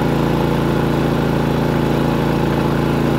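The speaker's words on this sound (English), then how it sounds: "The motor sounds smooth." A Predator 3500 inverter generator engine drones steadily under load while powering a 15,000 BTU unit, a loud, close, even hum with a smooth low pulse and no speech.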